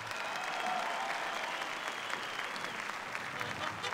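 Concert audience applauding a military orchestra, choir and mariachi performance, a thick continuous wash of clapping from a large crowd, with a voice faintly heard underneath.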